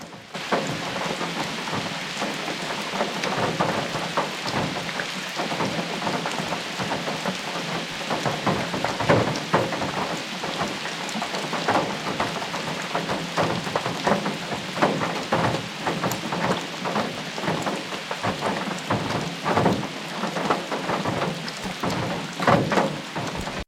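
Heavy rain pours down at Lake William Hovell during a fishing outing, a dense, steady hiss of drops hitting water and surfaces, with scattered louder patters and a faint low rumble.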